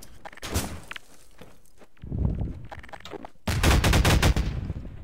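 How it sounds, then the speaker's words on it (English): Gunfire in the Garry's Mod video game: scattered single shots and thuds, then a dense, loud burst of rapid machine-gun fire near the end, with no talk. "I hear gunshots around me."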